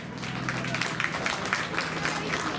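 A crowd at a county fair youth sheep show gives contestants a round of applause, a dense, continuous wash of clapping that holds steady throughout while a voice talks over it.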